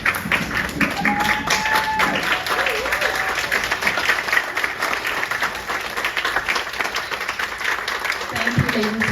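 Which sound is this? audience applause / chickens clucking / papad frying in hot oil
audience applause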